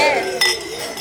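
Glasses clink together during a wedding toast, a bright ringing clink over a lively crowd of voices.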